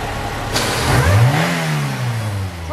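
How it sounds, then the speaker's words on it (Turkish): A Tofaş Doğan SLX car engine, just after cylinder head gasket work, revs up close and loud, rising in pitch and then holding high over about three seconds, with a sharp click near the start. "Şu an aracın çekişini duyuyorsunuz, gaz yemesini duyuyorsunuz."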